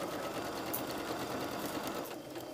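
A sewing machine stitching along the neck edge of a blouse: a steady, close, whirring mechanical hum with a rapid needle rhythm running throughout, easing slightly near the end, with no talking.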